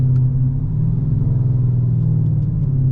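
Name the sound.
Dodge Charger R/T 5.7L V8 engine driving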